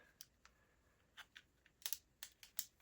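Small laser-cut wooden parts of a UGears V8 engine model snap into place during assembly, a quiet series of sharp, irregular clicks and taps heard up close, with no talking.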